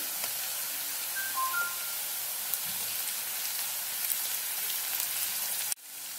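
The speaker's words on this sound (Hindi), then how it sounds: "लहसुन अदरक को अच्छे से भून लिया प्याज के साथ" Crushed ginger and garlic frying with onions in a pan for a mushroom paneer masala, a steady hiss of sizzling oil that continues evenly and then cuts off abruptly near the end, with no voices.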